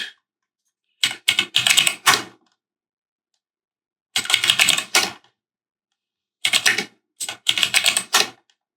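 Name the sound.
typing a command on a computer keyboard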